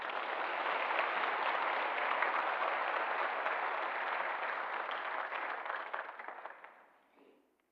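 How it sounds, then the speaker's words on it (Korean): A church congregation applauds during a Sunday worship service, a broad, even roar of clapping that holds steady for several seconds, then tapers off and fades to silence. "박수로 맞이하시겠습니다."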